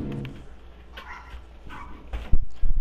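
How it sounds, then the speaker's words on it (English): A dog barks outside at a distance, a few short yaps muffled behind game sounds and low rumbling, with louder thumps near the end. "I hear that dog barking every fucking day"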